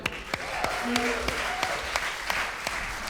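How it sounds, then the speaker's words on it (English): Audience applause greets a keyboard player introduced during a live band performance, with regular sharp claps repeating over a steady crowd wash and faint tonal sound beneath. "Pause for applause for Seth"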